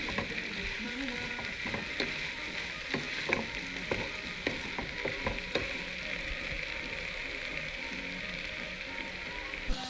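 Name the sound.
stir frying vegetables and potatoes with turmeric and garam masala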